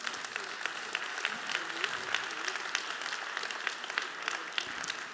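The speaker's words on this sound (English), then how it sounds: "So please give a warm applause to our students." A summit audience gives warm applause to a group of students aged 16 to 18, dense steady clapping from many hands with a few sharper close claps standing out.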